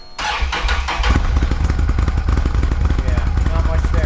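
A stock 2024 Can-Am Renegade X-MR 1000R ATV engine cranks and fires up, settling into a loud, steady, throbbing idle close by, with no talk over it.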